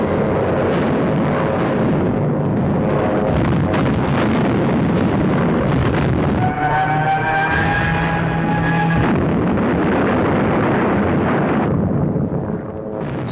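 Heavy World War II street-battle explosions and artillery fire roar continuously and loudly, with a dive bomber's rising whine cutting through partway, and no voices.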